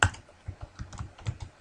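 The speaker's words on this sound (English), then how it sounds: "I'm going to click in cell A3 and type large" Close, light tapping on a computer keyboard while entering text into an Excel spreadsheet, with irregular quick keystrokes at a quiet level and no talking.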